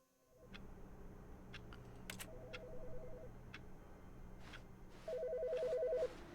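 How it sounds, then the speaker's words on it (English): A telephone rings in the video game The Stanley Parable, with repeated trilling bursts over a steady low hum and a few sharp clicks, growing louder toward the end. "Someone's phone is ringing."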